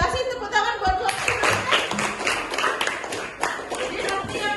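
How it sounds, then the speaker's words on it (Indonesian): Clapping from a classroom of students applauding a presenting student group, a sustained burst of many hands filling the room, with a teacher's voice heard over the start. "Kasih tepuk tangan buat kelompok."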